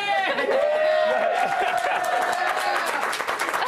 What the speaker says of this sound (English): The dead bodies are applauding.